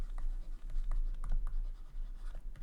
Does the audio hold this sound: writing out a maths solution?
yes